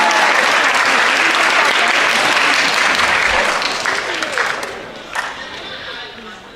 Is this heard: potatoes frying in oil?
no